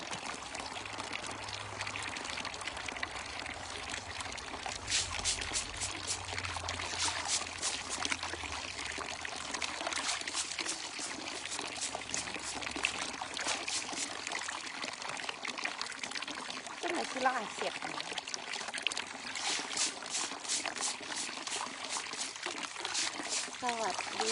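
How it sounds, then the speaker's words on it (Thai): Water runs and splashes steadily while large oyster shells are rinsed and rubbed, with occasional clinks and someone talking over it. "ล้างหอยนางรม"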